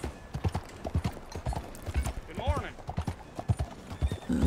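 Rhythmic clip-clop of a horse's hooves walking through a town in Red Dead Redemption 2, steady and fairly close, with a brief whinny, while someone talks over the game sounds.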